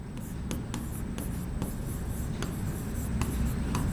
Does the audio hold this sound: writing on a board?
yes